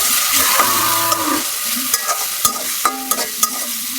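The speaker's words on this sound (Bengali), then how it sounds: "হালকা ভাজা হয়ে গেছে তো পেঁয়াজ আর জিরাটা" Pastes of onion, cumin and ginger fry in a pan for a bottle gourd and prawn curry, giving a soft sizzle with intermittent scraping stirs and clinks of a spoon against the pan.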